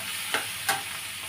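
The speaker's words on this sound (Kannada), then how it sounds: "ಆಮೇಲೆ ಈ ಕಡೆ ನಾನು ಈರುಳ್ಳಿನ ಚೆನ್ನಾಗಿ ಇದನ್ನು ಫ್ರೈ ಮಾಡ್ತಾ ಇದ್ದೀನಿ." Onions frying in oil in a pan give a steady, quiet sizzle, with two brief stirring scrapes rising above it.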